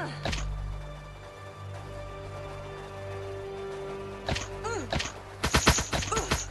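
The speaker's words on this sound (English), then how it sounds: "Now I'll get to test out the grenade launcher." A grenade launcher fires in a shooter video game with skill mods, a few sharp thumping bursts near the end over a steady background hum and tonal game sounds.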